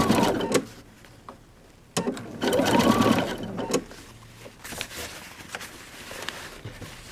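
A sewing machine understitches a dress seam in two close, steady bursts of running stitches, each stopping abruptly, with quiet pauses between.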